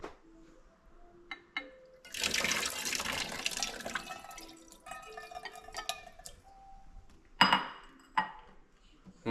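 A hand towel is rinsed and soaked in filtered water, with running tap water, splashing and wet sloshing in a basin, plus clinks of dishes and a few sharp drips, fairly quiet and close.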